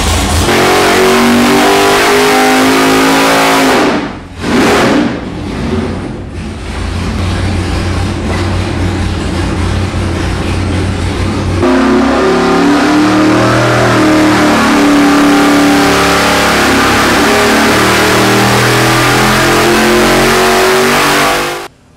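A loud, rumbling 572 fuel-injected hot rod engine idles close by with a lumpy, throbbing rhythm, briefly dipping once, then settling into a deep steady burble.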